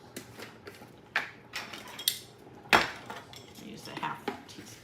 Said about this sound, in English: And then I'm going to whisk those together.